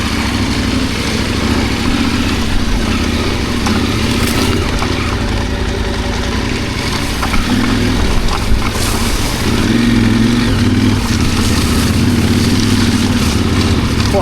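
Adventure motorcycle ridden off-road, engine droning steadily close to the microphone after a shift up into fourth gear, with a slight rise in pitch and intensity toward the end.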